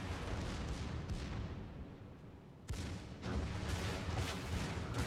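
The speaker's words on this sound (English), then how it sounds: "Those guns on the Fuso are not fast." Fuso battleship main guns firing in World of Warships, heavy booming artillery blasts with a sharp report near the middle followed by a rumbling sustained barrage, loud and close with no talk.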